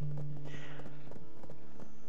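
Horse hooves clip-clopping in the online game Black Desert Online as a horse is ridden toward the stable, a steady, faint rhythm of light hoof taps with some background game sound.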